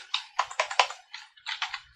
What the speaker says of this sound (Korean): 엔터 클릭, 클릭, 클릭